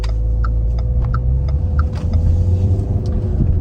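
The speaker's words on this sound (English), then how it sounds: "Traffic is building." Road traffic heard from inside a moving car: a steady, loud engine and tyre rumble with a few faint clicks and ticks over the top.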